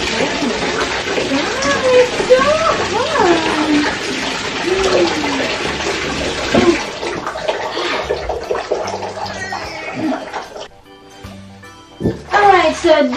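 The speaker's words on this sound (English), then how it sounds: "this is how I do give him a bath. I just soak him on the top first" Domestic cat being bathed in a tub, with water running and splashing steadily and a person talking over it, until the flow pauses briefly near the end.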